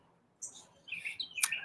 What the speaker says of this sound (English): Mockingbird